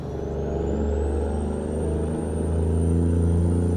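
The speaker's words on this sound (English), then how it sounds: "We just got sounds of the diesel engine going" Kenworth Legacy diesel truck engine in American Truck Simulator, a loud continuous low rumble that builds slightly, with a thin rising whine above it, steady and close with no talking.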